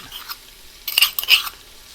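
Sliced onion being stirred in a pan for ghee rice, a burst of scraping clinks and light sizzle around the middle of a quiet stretch, close and moderately loud.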